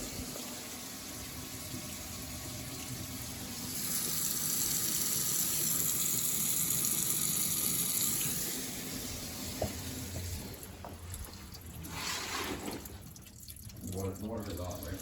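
Water running from a kitchen faucet under a sink where a water filter system cracked and flooded, a steady hiss that strengthens for a few seconds in the middle, with faint voices and clatter around it.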